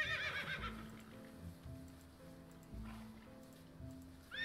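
A horse in the Tango adventure game gives a short whinny at the start, followed by quiet hoof thuds and soft background ambience, with another brief high cry at the very end.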